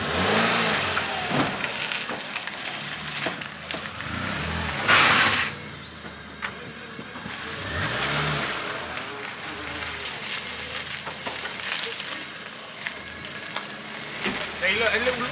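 Ford Fiesta engine revving in a car park while being handbrake-parked between two cars, mid-pitched rises and falls in the engine note heard under and between people talking and shouting nearby.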